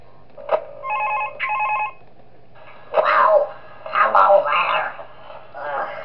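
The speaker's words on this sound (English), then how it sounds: "And we get a phone call this night." A telephone rings twice in short electronic bursts in the Five Nights At Thomas's 3 horror game, then a voice starts talking after a brief pause.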